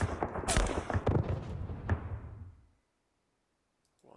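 Gunfire in a World War II Philippines war video game, a dense cluster of booming shots and rumbling blasts for a couple of seconds, fading to silence before another burst starts at the end.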